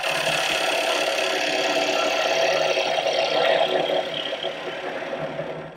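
A bowl gouge cuts a wooden bowl on a spinning lathe, a steady close whirring hiss with a motor hum beneath, easing slightly near the end.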